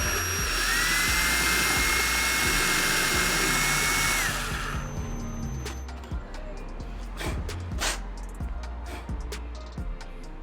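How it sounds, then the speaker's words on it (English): A power drill whines loudly and steadily as it bores a hole for installing a Woodcraft Armour Bodies Pro Series motorcycle tank fairing, then cuts off abruptly, leaving scattered handling clicks and clatter. "And then on to drilling the actual hole size."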